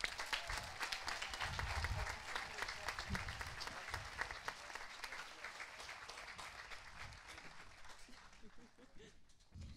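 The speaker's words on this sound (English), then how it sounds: "Another round of applause for our wonderful teachers." Graduation audience gives a round of applause for the teachers at a high school ceremony, dense clapping loud at first and slowly tapering off, with some voices mixed in.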